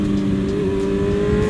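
Full carbon BMW M1000RR motorcycle engine running at a high, steady pitch, a loud, close, continuous mechanical drone with no talking.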